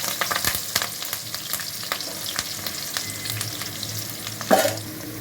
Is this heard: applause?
no